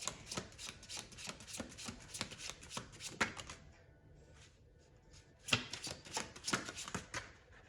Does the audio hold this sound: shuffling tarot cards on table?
yes